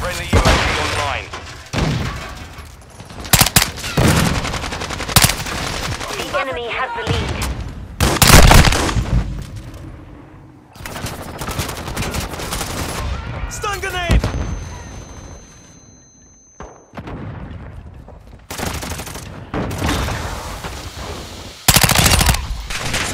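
Rapid automatic gunfire and single shots from Call of Duty: Modern Warfare II multiplayer come in repeated loud bursts with thuds and booms, mixed with voiced game callouts and a player talking.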